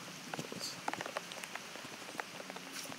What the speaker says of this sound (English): Uh-oh, more rain.